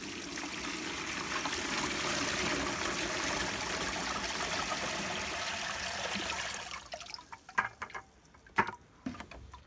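Water dumped into a cloning bucket, a steady close pouring rush for about six seconds, then the flow stops and a few drips, sloshes and handling knocks follow.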